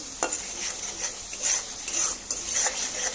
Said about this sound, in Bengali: আমার তেল উঠে গেছে, আলু দিয়ে দিয়েছি। এখন কষাবো